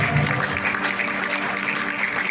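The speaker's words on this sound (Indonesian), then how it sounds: "tepuk tangannya boleh lebih kencang dong" An audience at a property development event in Gading Serpong, Tangerang, applauds in a steady, fairly loud patter of clapping, with music playing underneath.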